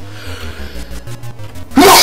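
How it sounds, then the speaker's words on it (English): A sudden loud human sneeze bursts out at the end, following a stretch of quieter low rumbling background sound. "It's rare that I sneeze in my videos."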